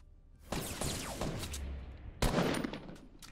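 Two loud pump shotgun blasts in the Fortnite video game, each sharp and booming with a long echoing tail, the second coming about two seconds after the first, with no talking.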